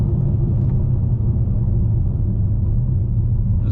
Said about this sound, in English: Those back tires are slipping pretty good now. Eating these back tires up, guys.